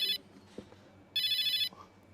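A phone rings for an incoming call, two bright electronic bursts of ringtone separated by a short gap of quiet room sound, close and clear.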